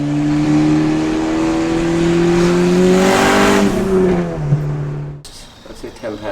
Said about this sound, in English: She rips, it pulls for a Civic.